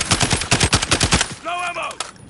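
Rapid automatic fire from a SCAR rifle in the Call of Duty video game: a fast run of about a dozen loud, close shots, then a short tonal game sound afterward.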